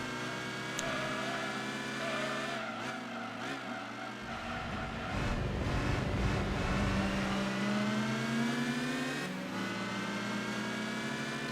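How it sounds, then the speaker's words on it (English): Ferrari F50 engine revving in Gran Turismo 2 (A-Spec mod), a steady, loud engine drone whose pitch climbs and drops through gear changes over about twelve seconds, with no talking. "Look, I'm driving a Ferrari F50 right now."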